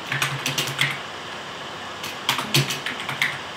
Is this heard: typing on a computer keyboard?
yes